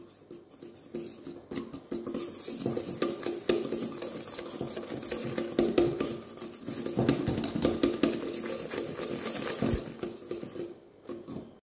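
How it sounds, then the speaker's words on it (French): Muffin batter with flour just added is mixed in a bowl: continuous rapid whisking or stirring with a busy, rhythmic scraping and tapping texture, close and fairly loud, with no voices. "Et on mélange."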